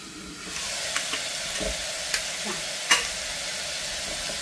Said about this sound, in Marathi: थोडं हलवून घेऊया